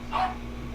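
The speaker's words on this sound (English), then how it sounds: "puppies, of course, going crazy" Excited puppies bark and yip during a gaming session, a short burst of barking up close over steady background hum.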